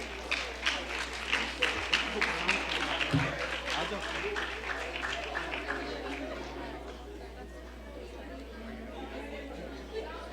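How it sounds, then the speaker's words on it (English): Audience at a live cultural program in a Radha Madhav Dham temple hall claps with distinct individual claps audible, mixed with crowd chatter and voices, the applause gradually thinning and fading out over about ten seconds. "Let's give them one more round of applause."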